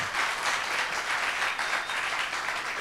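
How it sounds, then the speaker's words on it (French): A roundtable audience at the FEMUA festival applauds in a dense, even wash of clapping heard at a moderate distance, sustained without pause. "Il faut applaudir."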